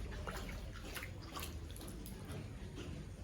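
Water splashing and dripping from a child playing in a rainwater puddle, a steady close wash of small splashes and trickles running the whole time with no talk.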